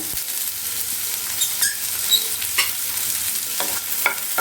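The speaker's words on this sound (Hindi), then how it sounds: "पियाज को भलरे भाजा कलर चेंज होगा पर्यंत टिके भाजी गलानी" Onions, green chilli and ginger fry in a pan of oil with popped mustard seeds, a steady sizzle cut by repeated scraping stirs and clinks of a spoon, close and fairly loud.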